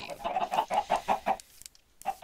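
A run of about seven quick, rhythmic chicken clucks in a video game, fairly close, followed by a short pause and one more cluck at the end.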